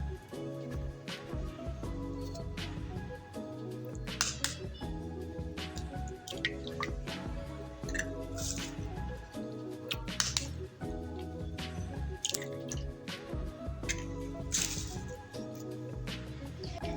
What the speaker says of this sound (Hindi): सबसे पहले अंडों को तोड़ के बॉल में डालेंगे।